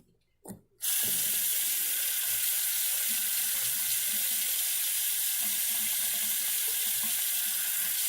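A water tap runs steadily while hair is wet, a constant loud rushing stream that starts abruptly after a brief bump and continues unbroken, close to the listener.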